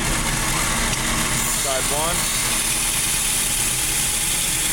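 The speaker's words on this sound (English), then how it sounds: "you can come back and just touch it up quickly on the belt sander" A belt sander touches up the edge of a lathe cutting bit with a loud, constant abrasive roar and motor hum that fill the whole stretch. A voice speaks briefly under the noise.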